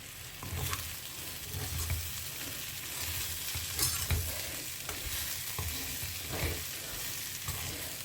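Grated coconut is stirred in a hot pan, soft sizzling frying under repeated scraping strokes of a spoon, close and fairly quiet, with no talking.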